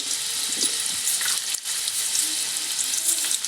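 Garlic sizzling in hot oil for dal, a steady bright hiss filling the clip close up, with faint clinks and stirring beneath and no talk.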